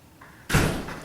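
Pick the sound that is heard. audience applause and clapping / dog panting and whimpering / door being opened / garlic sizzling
door being opened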